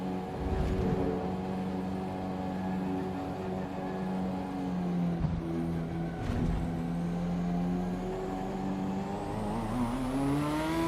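A race car engine in the Assetto Corsa Evo video game drones steadily at high revs, its pitch sliding down and climbing again through gear changes and rising toward the end, loud and continuous without talk.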